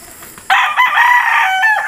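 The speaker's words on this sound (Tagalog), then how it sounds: "ito yung aking Beetles White na binuo" A Beatles White gamefowl rooster lets out a single loud, close crow that starts abruptly after a brief quiet moment and holds strongly to the end.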